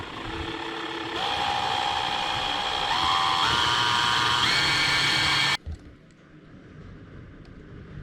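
A power drill spinning a metal axle whines steadily at high speed, its pitch stepping upward a few times as it spins, then cuts off abruptly, leaving quiet room noise.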